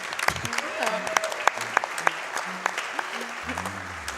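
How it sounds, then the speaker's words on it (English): A live charity speedrun marathon audience gives light applause under ongoing talk, with sharp individual claps scattered through a noisy room and a voice speaking throughout. "Oh, yeah, we can clap for that."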